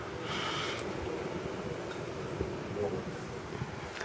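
Wind gusts across a snowy outdoor yard as a steady, rushing rumble buffets the microphone, with faint breathy noises mixed in and no clear speech.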